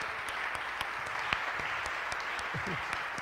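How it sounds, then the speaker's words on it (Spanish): Congregation applauding during a Sunday Mass in church, a sustained wash of many hands clapping with a few sharper individual claps standing out, and a voice briefly heard near the end. "Un aplauso."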